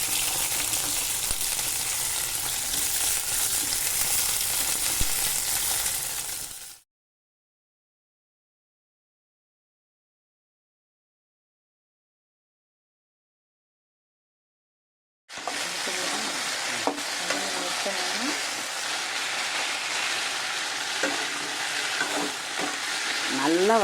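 Pirandai (adamant creeper) sautés in hot oil for a pickle, giving a close, bright, constant sizzle with stirring. It stops completely for several seconds, then comes back just as strong.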